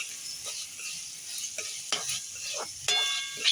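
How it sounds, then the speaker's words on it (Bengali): Gobindobhog rice and nuts dry-frying together in a pan, a faint soft sizzle punctuated by a few scraping stirs and light clinks of a spoon against the pan. "এইভাবে আমি ভেজে নেব"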